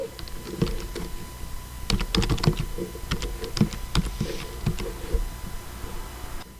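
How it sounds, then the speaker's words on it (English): Typing on a computer keyboard while entering an email address and password to set up a Pinterest business account, with irregular clusters of close, crisp key clicks separated by brief pauses. "So type in your email address and your password."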